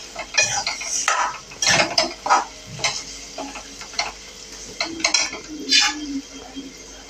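Boiled potatoes being mixed with spices in a pan for roll samosa filling, a run of irregular scraping and clinking spoon strokes against the pan, with faint talk in the background.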